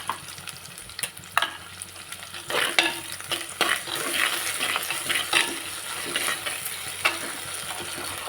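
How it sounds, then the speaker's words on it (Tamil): Ingredients for a traditional pepper ghee fish curry are sautéed in a pan with a little salt. A close, lively sizzle carries rhythmic scraping and stirring strokes, with no voices. "சீக்கிரமாக வதங்க வேண்டி கொஞ்சமாக உப்பு கூட போட்டு"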